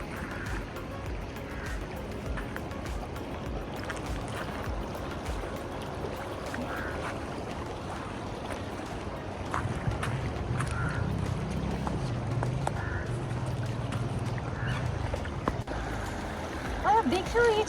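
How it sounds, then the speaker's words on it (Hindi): A river flowing past a jungle resort at Jim Corbett, a steady broadband wash of moving water that continues throughout, with low rumbling swells in the second half and faint scattered background sounds. "रिवर की जो आवाज़ होती है ना, रिवर के बहने की, कितनी अच्छी होती है ना रिवर फ्लो की"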